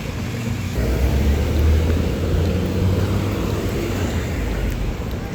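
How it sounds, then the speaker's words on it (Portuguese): Strong outdoor wind buffets the microphone, a loud low rumble that swells after the first second and stays heavy and uneven to the end. "Tá um vento do caralho."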